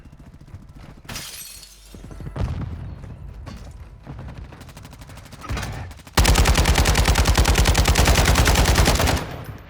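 Rapid automatic gunfire from the shooter game Warzone, a dense sustained burst of loud, evenly spaced shots in the second half after scattered louder cracks and impacts earlier, with no talking.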